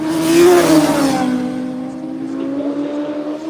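Two-stroke racing motorcycles scream past on a race track, one loud high-pitched engine note swelling nearby and then receding as the bikes pull away.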